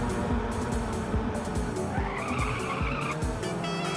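Video game car drifting in Ridge Racer Type 4 on PlayStation: continuous tire squeal and skidding over a droning race engine, with repeated rhythmic bursts from the game sound effects, loud and steady throughout.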